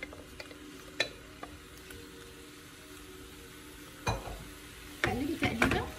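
Calamari frying in a pan with onion, garlic and peppers makes a quiet, steady sizzle, broken by occasional utensil taps. Louder bursts of stirring and scraping come toward the end.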